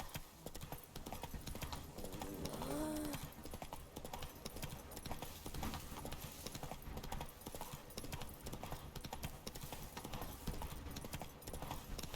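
Hooves of Roach, a horse in a video game, clatter in a fast, steady galloping clip-clop that runs without a break beneath a loud game soundscape, with a brief whinny early on and a few spoken words over it.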